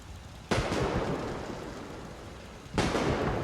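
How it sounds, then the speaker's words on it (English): A fireworks show in the Fallout 4 video game sounds as two sudden loud booming bursts, each followed by a long rumbling roar that slowly fades. "let's go ahead and flip the switch and see the fireworks show"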